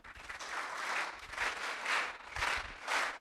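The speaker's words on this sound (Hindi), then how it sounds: "एक बार वीर ताली के साथ हम सभी का आभार व्यक्त करेंगे" An audience gives rhythmic group applause with a coordinated clapping pattern, building into four swelling bursts in steady succession, heard at a distance and fairly soft in a hall.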